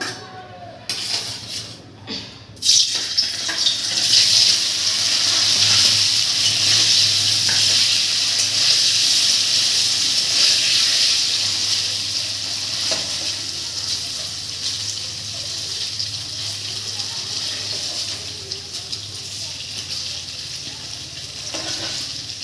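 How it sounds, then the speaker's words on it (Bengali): Paneer (cottage cheese) frying in a pan gives a steady, close sizzling hiss that holds loud from about three seconds on and eases slightly toward the end, with a few soft stirring knocks. "পনিরটা আগে ভেজে নেব।"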